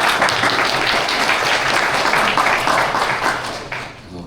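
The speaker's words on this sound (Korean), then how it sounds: "박수 한 번만 부탁드립니다." An audience at a Web3 career panel session claps in a dense, sustained round of applause that fades slightly near the end.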